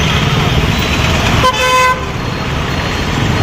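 Heavy street traffic near a market rumbles on, and one loud, clear car horn toots for about half a second over the engine noise.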